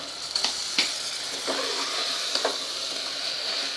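Drumstick pieces and potatoes sizzle in a spiced pan while being sautéed for drumstick curry. A steady soft frying hiss runs under several sharp scrapes and clanks of a spoon stirring against the pan.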